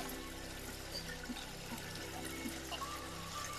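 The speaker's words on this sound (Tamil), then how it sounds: "ஸோ நான் அதை உள்ள தண்ணி ஊற்ற போகிறேன்." Water trickles and pours into an idli steamer pot on a stove in a new home's kitchen, a quiet, steady liquid splashing heard alone.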